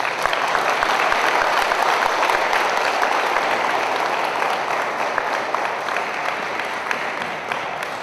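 Sustained applause from an audience at an Armenian youth and family forum, steady dense clapping throughout as speaker Artashes Kasakian is welcomed, with no talk over it.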